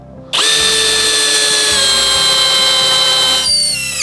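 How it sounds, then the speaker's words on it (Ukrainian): A Dnipro-M CD-201HBC compact cordless drill-driver, set to drill mode, starts up and runs at a steady high whine for about three seconds, loud and close, before the pitch drops as it winds down. "Давайте перейдемо на режим сверління. Трішечки висверлимо."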